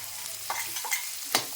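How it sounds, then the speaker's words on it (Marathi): Chopped onion is stir-fried in hot oil with cumin, mustard seeds and curry leaves, a steady soft sizzle broken by a few scraping stirs, heard up close without talk. "आता त्यामध्येच हा कांदा मस्त थोडासा लालसर होईपर्यंत, अगदीच त्याला खूप गोल्डन करायचा नाही आहे, थोडासा लालसर होईपर्यंत खालीवर करून घ्यायचा आहे"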